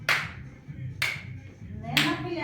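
Three sharp hand claps, about one second apart, struck under a raised knee while high-stepping in a preschool gym class, fairly close and moderately loud over faint background room noise.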